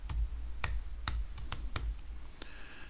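Keys on a computer keyboard are struck in a short, irregular run of crisp clicks and taps, close and fairly quiet.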